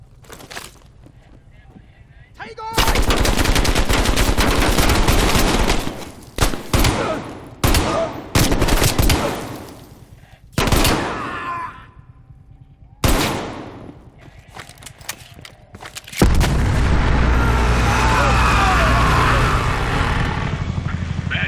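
Heavy gunfire rages through the Fracture Jaw mission of a PS5 Pro video game: loud, sustained automatic bursts broken by brief gaps, ending in a long, dense barrage.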